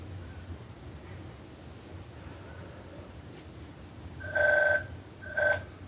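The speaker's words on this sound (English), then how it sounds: "I don't know why the phone always likes to ring when I'm doing these" A telephone rings in a quiet room, two electronic rings in a row, the first longer and the second brief, fairly clear against a soft background hiss.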